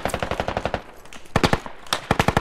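Machine gun cover fire in the video game Squad: close, loud rapid bursts of automatic fire, two or three strings with short gaps between them.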